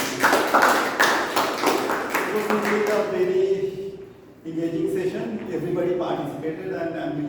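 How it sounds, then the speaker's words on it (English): A room of Toastmasters club members applauding the general evaluator at a meeting, a burst of clapping that fades after a few seconds before a voice begins speaking. "A big round of applause for our general evaluation Toastmaster"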